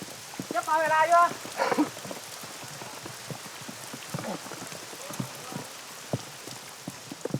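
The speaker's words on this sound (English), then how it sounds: "The drizzle that's been falling since they started out has now turned into a heavy downpour." Heavy rain pours steadily over Vietnam's Mekong mountain country as a drizzle turns into a downpour, a dense constant hiss with brief louder spatters and some background noise.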